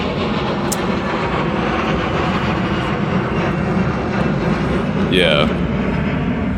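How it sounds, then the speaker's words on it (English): Airplanes fly overhead near Santa Monica, a broad steady engine roar filling the whole clip over outdoor ambience, with a brief spoken word and a short whistle-like tone near the end. "People be moving on those airplanes."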